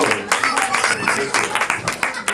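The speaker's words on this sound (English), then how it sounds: "Big round of applause to all the kids." Dense applause for the kids fills a cultural center hall during a Srimad Bhagavatham session, many hands clapping near and continuously with individual claps punctuating the wash of sound.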